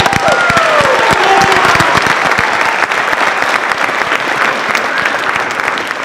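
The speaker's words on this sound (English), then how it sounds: "just give him a real quick round of applause" Loud, sustained applause from a large audience at a high school winter band concert, dense clapping filling the space with a few scattered cheers mixed in.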